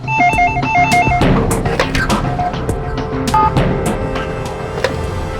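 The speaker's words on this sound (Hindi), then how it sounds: "तो भी फोन उठाओ" A telephone rings loudly in a Hindi crime drama scene, its repeating electronic ring pattern heard clearly at the start amid other busy sound, then fading into a dense mix of clatter and background noise.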